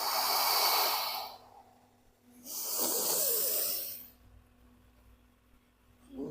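Slow, deep breaths in and out during a yoga flow, a long airy inhale and a matching exhale each swelling and fading, close and fairly quiet with a short pause between.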